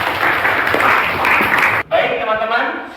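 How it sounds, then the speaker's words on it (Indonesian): Students in a classroom clap together for almost two seconds, loud and dense, before it cuts off and a voice speaks. "Tepuk tangan untuk kita semua."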